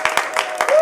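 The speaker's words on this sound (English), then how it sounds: "Can I get a round of applause for the Indian," A live audience breaks into a short burst of scattered clapping for the host, with a voice running over it.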